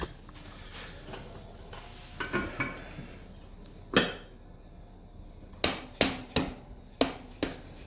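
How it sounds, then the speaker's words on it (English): Light hammer taps seat the front wheel axle of a TC Bro's springer on a motorcycle, starting with some scattered metallic clinks and then a series of about six crisp, evenly spaced taps close by, with no voices. "I'm just giving her some nice little light tippity taps."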